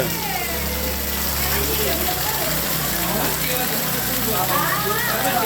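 A scooter's engine idles and hums in a rain-flooded street, a low steady drone under constant heavy rain hiss that drops away after about two seconds while the downpour continues.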